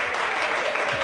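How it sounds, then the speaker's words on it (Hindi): Audience applause for a performer, a brief dense burst of many clapping hands, steady and fairly loud from start to finish. "इनके लिए जोरदार तालियां प्लीज"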